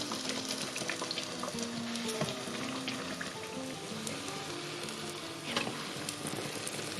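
Quẩy dough sticks frying in hot oil give a steady, dense sizzle and crackle that runs without a break, with a few sharper pops, and no one speaks.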